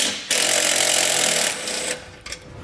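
A power tool, likely an impact wrench, buzzes loudly for over a second as it loosens a 10 millimeter nut on a computer bracket of a 2020 Ford Escape, then winds down with a short rattle.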